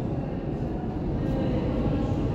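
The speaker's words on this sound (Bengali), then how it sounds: "মেট্রো চলে এসছে।" A metro train pulls into a station with a steady low rumble and rolling roar that builds slightly, close and continuous, with no clear talk over it.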